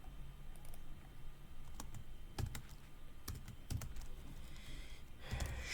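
Typing on a computer keyboard while writing on-page SEO content, heard as scattered, fairly close clicks and clacks over a quiet background hiss, with no speech.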